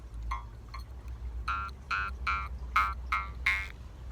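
A Jew's harp is twanged in a rhythmic run of about eight buzzy, resonant plucks, close and fairly clear against a low background rumble.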